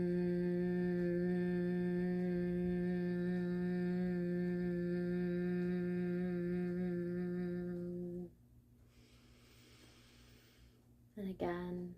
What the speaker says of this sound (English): With your mouth closed, begin to buzz or hum right at the back of your throat.